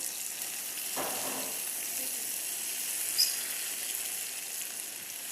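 Elephant foot yam (karunai kizhangu) deep frying in oil, a steady, even bubbling hiss that stays level throughout, with one faint stirring scrape.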